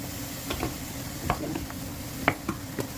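Beetroot being lightly fried in a pan for a vegetarian beet soup, giving a steady low sizzle with scattered spoon-stirring clicks and scrapes, close and moderately quiet, with no talking.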